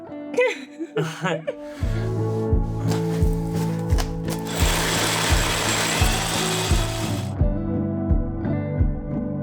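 A power drill whirs into material, drilling a hole for a grey water waste line, with a steady grinding hum, louder in the middle, after some brief scraping and handling noises.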